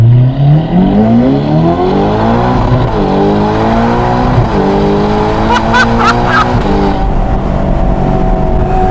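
An ordinary road car is driven hard, its engine revving loudly up and down through several gear changes, close and continuous, with brief tire chirps near the end.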